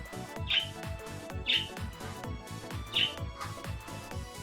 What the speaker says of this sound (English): Hey, birds!